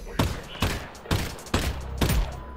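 Rapid gunfire from weapons in the VR shooter Half-Life: Alyx, four heavy shots spaced about half a second apart, each with a sharp crack and a short reverberant tail, loud and close.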